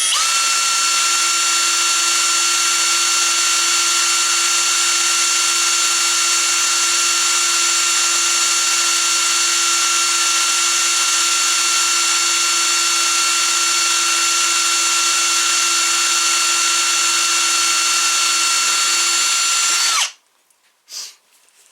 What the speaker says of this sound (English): Put my drill down on slow.